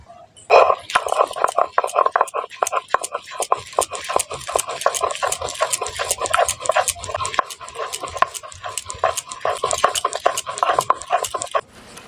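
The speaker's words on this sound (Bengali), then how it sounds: "এখানে নিয়েছি রসুন আর কাঁচা লঙ্কা আর নিয়েছি পেঁয়াজ কুচি এই মশলাগুলোকে খুব সুন্দরভাবে বেটে নেব" Garlic, green chilli and chopped onion being ground into a paste on a grinding stone: a close, steady run of rhythmic scraping and knocking strokes that continues throughout without talk.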